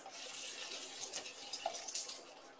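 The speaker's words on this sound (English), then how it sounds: "My dumplings are about to get some water in them." Water splashes and hisses into a hot pan of vegetable dumplings to steam them, a faint steady sizzling pour with a few small bubbling pops, heard alone.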